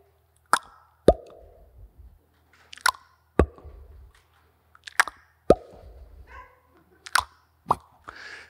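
Water dripping in a quiet house at night, like an endless gutter: about a dozen sharp, close plops land at irregular intervals over a faint background hush.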